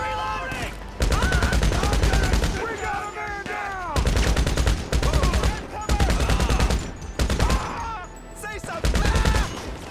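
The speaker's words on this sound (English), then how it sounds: "I have the light machine gun" A light machine gun fires in a video game, long sustained automatic bursts in four loud, close volleys separated by brief pauses, with speech faintly mixed in.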